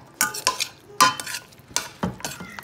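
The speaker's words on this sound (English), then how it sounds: "I added the French fries to the mixture, and I'm just gonna mix them together" A utensil stirs French fries through a chicken sauce mixture in a pan, giving several distinct scraping, clattering strokes with faint sizzle between them, close and clear, no talking.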